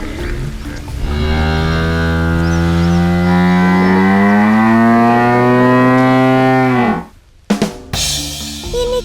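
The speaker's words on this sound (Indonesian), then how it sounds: "Ini kuda Nil." A hippopotamus gives one long, loud, resonant call that rises and falls in pitch like a drawn-out moo for about six seconds, then stops abruptly, followed by a couple of short sounds.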